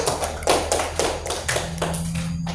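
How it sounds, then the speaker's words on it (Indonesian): A classroom of pupils claps for a student group, giving a few uneven, loosely timed bursts of hand claps close by over a steady low hum. "Tepuk tangan dulu untuk kelompok 1."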